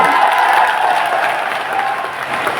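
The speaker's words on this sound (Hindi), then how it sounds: "पिछोर की ताली बजा दो एक बार" A crowd at a political rally in Pichhore claps in loud, dense applause that carries on steadily and fades slightly toward the end, with faint voices mixed in beneath.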